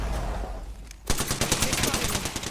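Apex Legends gunfire erupting after a quieter stretch, with rapid close-range shots firing in a quick uneven rhythm.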